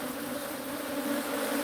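About 100,000 angry bees buzz as a swarm, making a dense, even drone that is steady and fairly faint, with no voices.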